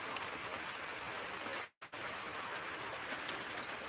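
Steady hiss of morning rain falling on a surface, continuous and moderately loud, with a brief dropout midway and faint bird calls in the background.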